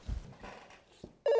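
A telephone ring tone cuts in abruptly and loudly at the very end, after a short stretch of faint, low sounds.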